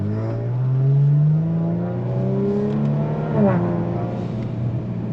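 Turbocharged engine of a Kia Stinger fitted with catless downpipes, droning steadily up through the revs with a rising whine, then a brief shift and renewed pull, close and loud inside the car with no talk.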